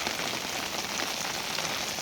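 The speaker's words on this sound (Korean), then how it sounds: "길거리 지금 비가 와서" Rain falls on a street at night near a Tulou earthen building, a steady, dense hiss with no breaks and no voices.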